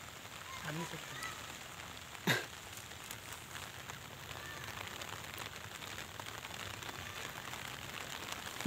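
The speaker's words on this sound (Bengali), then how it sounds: "বৃষ্টি পড়তেছে।" Rain falling in a rural Bangladeshi village, a soft steady patter on surfaces, faint and even, with one sharp knock partway through.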